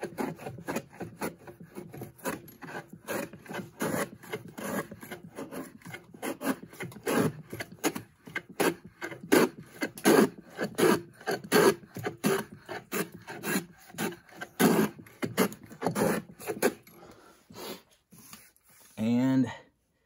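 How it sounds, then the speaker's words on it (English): Hand plane shaving green wood across the grain on a Roman workbench, a fast series of close, dry rasping strokes in steady rhythm, each a short scrape, ending with a brief louder squeak-like stroke. "the fact that I'm still planing cross grain, you can see even finer shavings"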